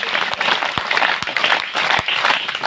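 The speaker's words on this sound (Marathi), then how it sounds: "त्यानंतर जोरदार टाळ्या" Loud applause from a crowd at a school picnic event fills the whole moment, dense steady clapping with a few sharper individual claps standing out, close and unbroken.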